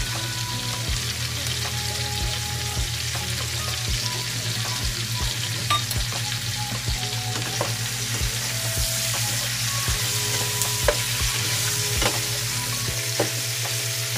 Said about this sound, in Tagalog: Lutuin muna natin yung garlic natin.